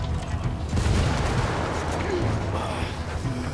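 Frag grenade explosion in Ghost Recon Wildlands: a dense, rumbling blast that peaks early, mixed with scattered gunfire close by, with a voice faintly underneath.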